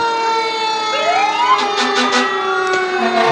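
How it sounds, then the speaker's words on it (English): Yellow fire truck, engine 101 of the North 321 Volunteer Fire Department, in a Christmas parade in Lincolnton, its loud wailing siren rising in pitch close by, with sharp air-horn blasts layered over it. "It's a yellow fire truck from North 321 Volunteer Fire Department, engine 101."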